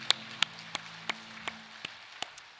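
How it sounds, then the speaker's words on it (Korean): A church congregation marking its anniversary at a Sunday service gives a sparse, slow round of clapping, about ten distinct claps spaced fairly evenly over a quiet, faintly humming hall. "64주년 동안 4년 동안 은혜와 진리로 인도하신 성삼위 하나님 앞에 감사의 박수로 영광 올려드립시다."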